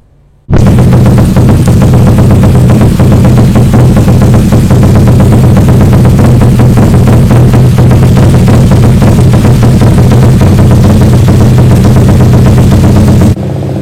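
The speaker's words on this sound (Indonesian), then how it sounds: "Suara knalpot yang baru tuh seperti itu dibandingkan dengan yang lama." A Honda Supra motorcycle's new custom exhaust rumbles loudly and continuously, a deep, rapid popping drone that starts abruptly and holds steady before cutting off.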